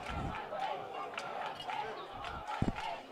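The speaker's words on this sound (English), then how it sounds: "Fandom is cheering loud, and you can't blame them." Fans at a college football game between Stanley-Boyd and Colby send up a distant, muffled roar of cheering, with scattered shouts and voices blended into the steady crowd noise.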